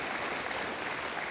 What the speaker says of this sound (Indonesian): Mungkin bisa tepuk tangan buat beliau di sini.